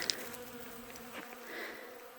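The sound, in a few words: bees buzzing while collecting pollen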